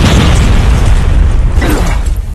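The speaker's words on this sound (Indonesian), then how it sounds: "sebuah ledakan granat seketika terjadi" A loud, deep grenade explosion booms close by, a sustained roaring blast that rumbles for a couple of seconds before starting to fade.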